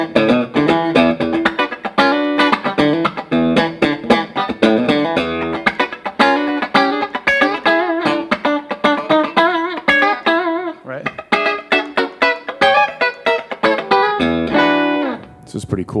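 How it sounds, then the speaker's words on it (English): A Taylor electric guitar on its bright, punchy bridge pickup plays a funky, choppy run of quick plucked notes and chords, loud and close, with a brief pause near the end. "So, bridge pickup on an electric guitar, bright, punchy."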